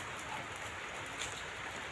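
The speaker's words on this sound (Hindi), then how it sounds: "आज देहरादून में बारिश हो रही है" Steady rain falls in Dehradun, a constant, even hiss of drops on surfaces with no pauses and no voices.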